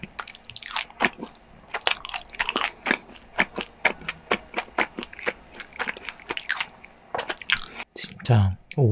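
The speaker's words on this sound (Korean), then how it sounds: "거기에 이번에 크림치즈 올려서 먹어볼게요." Close, crisp bites and wet chewing of fig-packed bread topped with cream cheese, a steady run of sharp crunchy-squishy bursts with short pauses, no talking.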